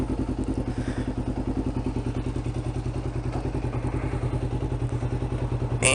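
A Kawasaki Ninja 500R with a full Muzzy exhaust system idles on a cold morning, its engine thumping in a steady, rapid, loud rhythm up close throughout; no talking.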